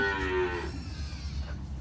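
A dairy cow moos once, a loud drawn-out low call near the start that fades into farmyard rumble where cattle feed on concentrate, with no talk over it.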